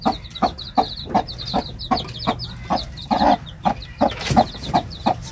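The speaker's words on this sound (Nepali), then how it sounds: "कुखुराले नि पोथीले नि चल्ला निकालेको अवस्था" Hens with newly hatched chicks cluck in a farmyard, sharp repeated clucks in an uneven rhythm close by, with high peeping chick calls threaded through, and no talking.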